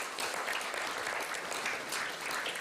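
Applause from devotees at an ISKCON temple gathering in Dallas: a dense, even patter of many hands clapping, fairly quiet and somewhat distant, continuing steadily throughout.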